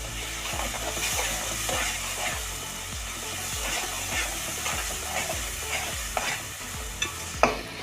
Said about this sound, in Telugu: అల్లం చిల్లిపాయి కొబ్బరి పేస్ట్ వేసుకున్నాం ఇట్లా కలుపుకున్నాం